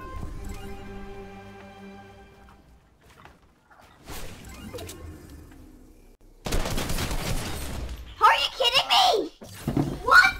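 Rapid bursts of Fortnite video game gunfire in box PvP, loud and clustered toward the end, with excited young voices talking over and between the shots.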